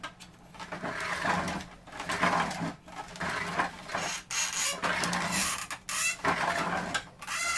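A 3D printer runs steadily through a long print job, its stepper motors whirring and chattering in shifting, rhythmic bursts with brief pauses between moves, close and alone.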